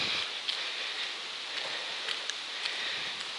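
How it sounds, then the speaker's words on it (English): Light rain patters steadily on the Appalachian Trail, a soft broadband hiss with a few scattered drop ticks, outdoors and fairly quiet. "And it's kind of sprinkling."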